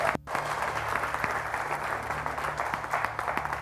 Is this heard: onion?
no